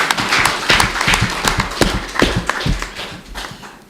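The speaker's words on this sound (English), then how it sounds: "give them a round of applause" An audience at a startup event gives a round of applause, a scattered patter of hand claps that rises and then thins out over a few seconds, moderately near.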